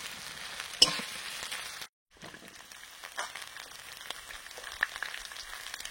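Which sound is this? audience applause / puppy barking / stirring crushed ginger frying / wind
stirring crushed ginger frying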